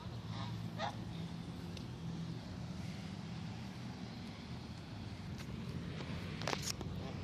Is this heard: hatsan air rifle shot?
no